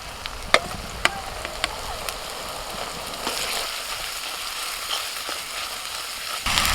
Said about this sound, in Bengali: পেঁয়াজ আর রসুন ভাজা হয়ে গেছে এবার দিয়ে দিচ্ছি আদা বাটা